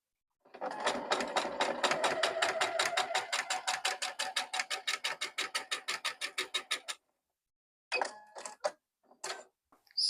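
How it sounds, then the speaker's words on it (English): A sewing machine stitches down a patchwork four-patch quilt block: a fast, steady run of rhythmic needle strokes for about six seconds, close and alone, followed after a pause by a few short bursts. "I'll take that to machine and sew it down"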